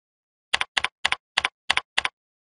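Six short bursts of typing on a computer keyboard, each a quick double clatter of keys with even pauses between them, close and clear in a quiet room.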